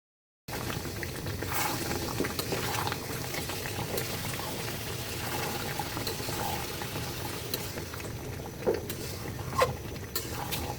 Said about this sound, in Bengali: গুড়গুলো যখন এরকম গলে আসবে তখন খুব সাবধানে নাড়তে হবে